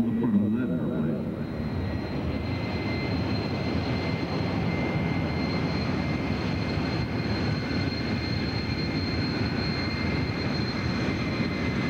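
A vintage airplane taxis down the taxiway at the 1982 Moffett air show, its engine droning in a steady, continuous rumble at moderate distance while an announcer talks over it.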